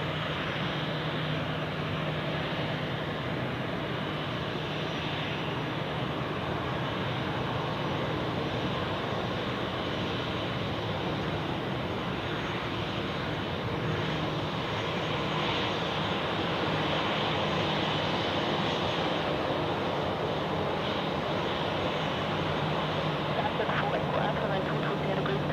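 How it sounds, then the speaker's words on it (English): A Lufthansa Airbus A319 departing Zurich Airport during a Sunday rush, heard as a continuous loud engine roar that builds slightly toward the end, with faint talk underneath. "We have a Lufthansa A319"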